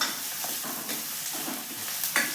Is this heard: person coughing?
no